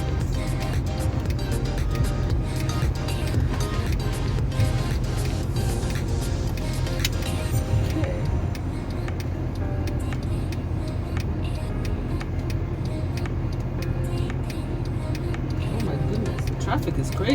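Low, steady engine and road rumble from inside a moving car in Saturday morning traffic, with a voice talking over it.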